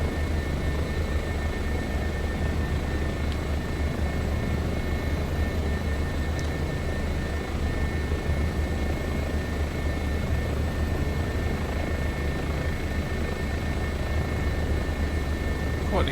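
In Microsoft Flight Simulator 2024, a Bo 105 helicopter flies over Niagara Falls, its engine and rotor making a steady, even drone with a constant whine on top and no pauses.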